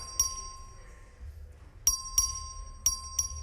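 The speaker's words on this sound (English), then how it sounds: "Clerk, ring the bell." A bell rings in the Texas House chamber during a record vote, sounding as sharp metallic dings: one strike, a pause, then four more in irregular succession over a low murmur of room noise and distant voices.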